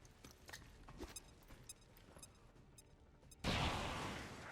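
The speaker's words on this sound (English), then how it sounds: "And here comes one of those explosions." A sudden burst of explosive noise from the video game XCOM 2 cuts in near the end after quieter scattered game sounds and lingers as a sustained rumble.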